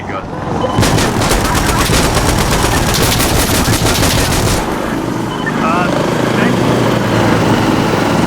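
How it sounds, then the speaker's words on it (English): A minigun fires in the video game Insurgency Sandstorm, a loud, sustained rapid buzz of shots that stops partway, with shouted voices and battle noise continuing after. "Excellent, minigun."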